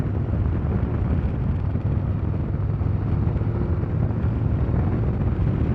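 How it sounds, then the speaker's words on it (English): A 2024 Harley-Davidson CVO Road Glide ST accelerates with a steady, loud engine roar and the rush of air pulled through its air filter, heavy wind buffeting mixed in throughout. "you can hear that air filter pulling that air in"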